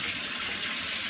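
Tap water runs steadily into a sink as lamb meat is rinsed, a continuous close hiss and splash with no talking.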